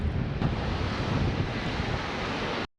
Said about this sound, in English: It's nice to hear the waves crashing.